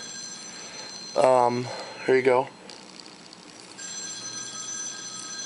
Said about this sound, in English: that's my phone ringing in the background